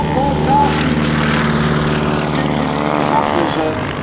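A Grumman G-164 Ag-Cat agricultural biplane flies an airshow display at Leszno, its radial engine and propeller giving a loud, steady droning roar that holds throughout, with faint voices mixed in beneath.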